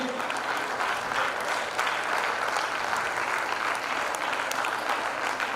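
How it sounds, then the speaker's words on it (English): A hall audience at a school's annual prize day claps in sustained, dense applause for several seconds, steady and fairly loud with no pauses. "A thunderous round of applause for the physical education department"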